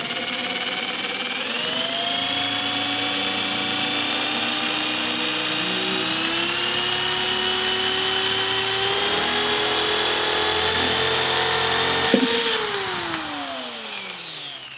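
A Black + Decker HD555K50 550W hammer drill boring a hole, its motor a steady, loud, high whine that slowly climbs in pitch, then spins down near the end.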